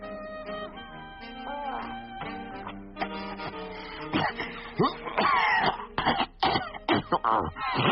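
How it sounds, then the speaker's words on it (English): Coughing and throat-clearing from a character in a British radio crime drama, close and dry, starting sparse and growing into a rapid run of harsh bursts over a low background. "do stop coughing"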